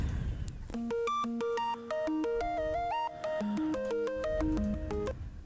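Preview of a song played back in GarageBand, a bright synthesized melody of quick plucked electronic notes over a bass pulse, clear and continuous with short breaks between phrases.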